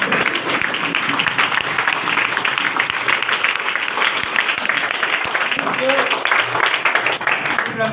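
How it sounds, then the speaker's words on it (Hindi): Audience applause at an offline meeting, steady dense clapping from a gathered crowd lasting several seconds, with some voices underneath. "जोरदार तालियां"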